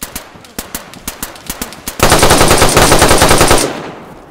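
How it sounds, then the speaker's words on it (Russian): In-game weapon fire from DayZ: a string of evenly spaced single shots, then a dense, loud burst of rapid automatic fire lasting over a second before it cuts off, with no voices. "Я ему дал там пару шотов."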